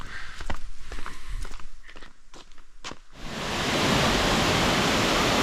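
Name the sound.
Bouma waterfall in Fiji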